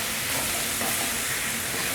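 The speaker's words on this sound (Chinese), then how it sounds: "白芝麻来一些，把所有调味料炒均匀" Cumin, Sichuan pepper powder and white sesame seeds are stir-fried in a wok with mushrooms and white radish, giving a steady, close broadband sizzle with faint scraping throughout.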